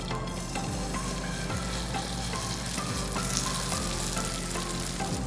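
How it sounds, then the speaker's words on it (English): Potato pancake batter frying in hot oil in a pan for a Korean meal, a dense, continuous sizzle and crackle, close and steady with faint scraping ticks underneath. "When oil's rolling on your pan, add potato mixture,"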